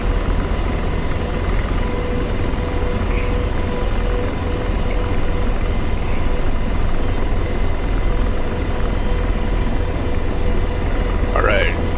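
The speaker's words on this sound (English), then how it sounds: "They prepped another helo for me here, and I'm spooling up." AH-64D Apache helicopter in DCS World, spooling up aboard a ship: a constant loud rotor and turbine whine fills the whole stretch with a faint rising tone near the end.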